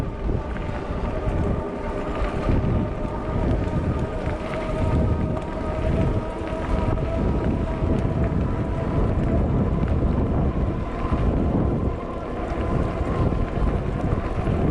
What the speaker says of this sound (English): Oh, it's quite cold though. That wind's bitter.